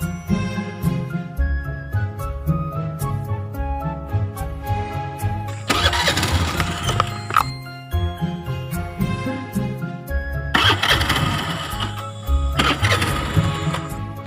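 A faulty motorbike's engine is cranked repeatedly and sputters without catching, in bursts over steady background music.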